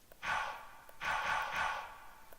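Two breathy exhales, the second longer and swelling, sitting in a quiet mix as a sampled breath layered into a grime trip-hop trap beat to accent the snare.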